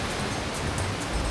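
Turbulent river water rushes steadily over rocks while fishermen haul in nets, a continuous loud broadband roar with no pauses or distinct splashes.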